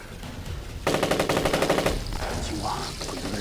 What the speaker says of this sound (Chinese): 你听鬼子的枪声